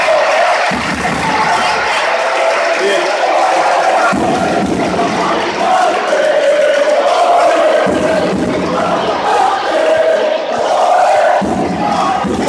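A basketball crowd at a Copa LEB Plata game roars and cheers in loud, sustained waves, with clapping and shouts blending into a dense arena din.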